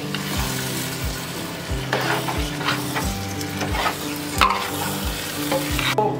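Dal frying in a pan for a dal meat dish, a continuous sizzle with a rhythmic, regularly repeating scrape of the spoon as it is stirred, close up.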